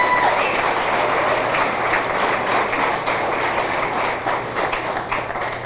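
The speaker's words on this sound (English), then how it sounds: "That deserves a round of applause right there." A crowd at a high school athletic hall of fame ceremony applauds a softball coach's 318 wins and championships. The clapping is loud, sustained and dense from start to finish, with no voices over it.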